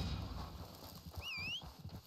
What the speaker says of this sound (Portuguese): Chamando o próximo cavalo do estábulo disponível.